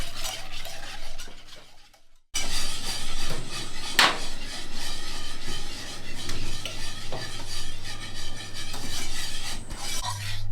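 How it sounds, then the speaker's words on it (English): Pastry cream for chocolate eclairs and profiteroles is whisked continuously in a pan over medium heat, producing a close, steady scraping and clinking of whisk against metal after a short pause. "you just want to whisk it continuously till it starts to thicken and bubble"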